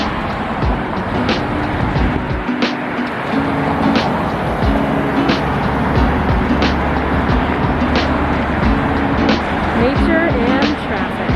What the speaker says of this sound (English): Wouldn't be LA without the sound of traffic.